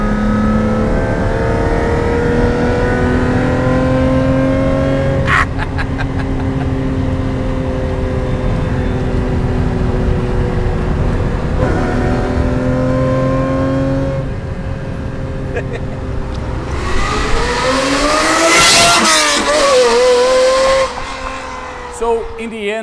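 Ferrari engine revving around 4,000 RPM, a loud close drone with steady rising and falling pitch, ending in a sharp high rev burst and hissy surge, with speech over parts of it.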